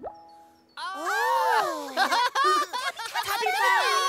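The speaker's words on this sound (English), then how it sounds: "there was a ringing sound." A cartoon Tubby phone in Teletubbyland rings with bright, wobbling electronic trill tones that rise and fall in a playful melody, loud and close, following a short soft lead-in.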